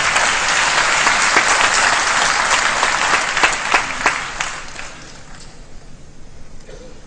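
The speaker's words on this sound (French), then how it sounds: "Je veux nommer M. Abdoulaye Yad, que je vous demande d'applaudir." An audience at a scholarship award ceremony applauds loudly and steadily, then the clapping thins out into scattered claps and fades.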